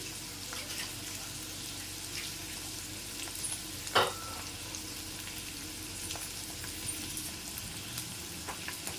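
Potatoes fry in hot oil over a low flame, giving a steady, moderate sizzle close by, with one sharp clatter partway through and no speech.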